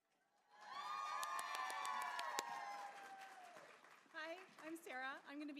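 A crowd cheers, whoops and hollers loudly for nursing graduates at a spring pinning ceremony, a sustained burst of shouting and high whistles that swells, then fades into scattered individual whoops.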